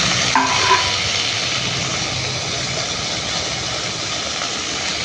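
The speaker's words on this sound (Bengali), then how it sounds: "এবার কেটে রাখা টমেটো দিয়ে দেবো।" Chopped tomatoes go into a hot wok with fried onions and spices, setting off a steady, loud, close sizzle after a brief clatter at the start, with no talking.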